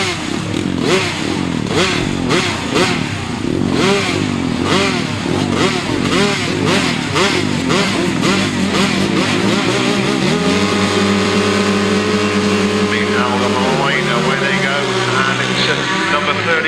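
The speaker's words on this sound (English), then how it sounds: "Number 32, that's Daniel James making a cracking start, but Chesney King gets through on the inside" Motorcycles roar away at the start of a 2005 grasstrack race in the intermediates class: a loud, continuous, raspy wall of engine noise with rising and shifting revs, while a commentator talks over it.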